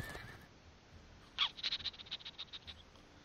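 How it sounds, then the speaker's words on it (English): Horses neigh in the fantasy strategy game Fallen Enchantress: a single clear whinny that rises then breaks into a rapid fluttering series of shorter pulses fading over about two seconds, fairly faint and alone. "These are horses."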